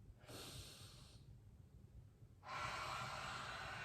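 Deep breaths during a yoga-style fitness exercise, a long airy inhale and then a fuller, louder exhale after a short quiet gap, close to the microphone with no talking.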